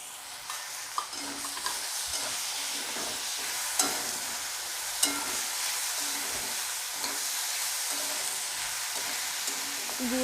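Carrots and vegetables frying in a pan for a vegetarian dal, a continuous close sizzle with intermittent scraping clicks of stirring, with no talk over it.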